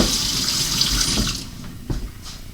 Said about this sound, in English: just wash those strings down the drain